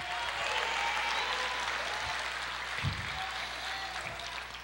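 A church congregation applauds during a sermon with a steady, moderately quiet wash of clapping that goes on without a break. Low thumps rise out of it now and then.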